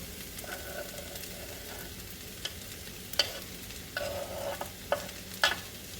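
Sausage going into a pan of frying potatoes for a breakfast hash, a faint low sizzle with a few brief scrapes and clatters of the utensil against the pan, no talk.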